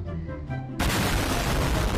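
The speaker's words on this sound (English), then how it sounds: "Oh my god, it's gonna explode." An explosion in the video game Ice Scream Chapter 3 bursts in suddenly after a quieter stretch of music, followed by a loud, sustained roaring blast that fills the rest of the moment.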